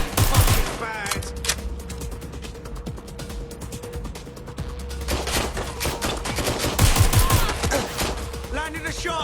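Rapid bursts of gunfire in the video game Watch Dogs Legion, dense clattering shots in clusters across the whole stretch, with voices talking over parts of it.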